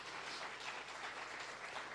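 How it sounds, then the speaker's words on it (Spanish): A church congregation claps in a steady, even wash of applause, quite faint and distant, continuing throughout without a break. "Dale un aplauso a Jesucristo de Nazaret"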